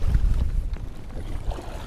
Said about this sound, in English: Wind is getting worse. I'm talking like big gusts.